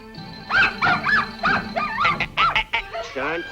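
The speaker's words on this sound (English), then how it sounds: "there's that dog again." Cartoon dog barking and yipping in a rapid run of sharp, close, loud barks, the last few drawn out and wavering like a whining howl, with no talk.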